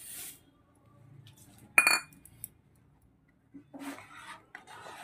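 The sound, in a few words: stirring vermicelli payesh in a pot with a spoon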